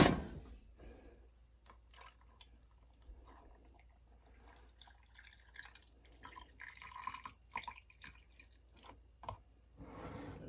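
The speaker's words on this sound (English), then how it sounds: "we're going to fill these little jars up with water" Water pouring and trickling into small glass canning jars while canning sweet potatoes and butternut squash, soft splashing and dripping with faint clinks, fairly quiet throughout.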